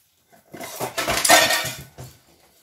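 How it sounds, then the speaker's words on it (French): A burst of metal utensils and pans clattering onto a hard floor, a loud tumbling crash that rattles for about a second, then a faint final clink. "Et j'ai tout mis par terre. Moi qui ne voulais pas faire de bruit, c'est raté."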